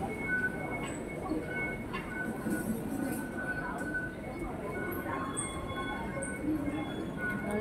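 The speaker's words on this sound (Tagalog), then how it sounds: "Trains going down there." An MTR subway train runs in a Hong Kong station, a steady low rumble and rolling hum with faint higher squeals and tones, moderately distant, under general station ambience.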